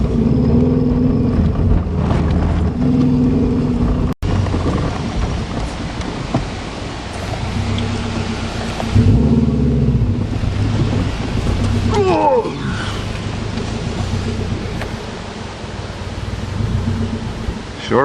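A Subaru Legacy, just given a makeshift repair, drives along on a test run, its steady, loud engine and road rumble heard from inside, with gusty wind noise and a brief rattling squeak midway.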